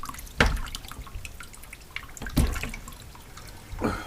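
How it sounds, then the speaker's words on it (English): Hot water drips and splatters from the weep hole of a Sub-Zero model 695 freezer door, sounding as a few distinct close drops separated by quiet seconds of faint trickling. "Just let all the water drain out of the weep hole."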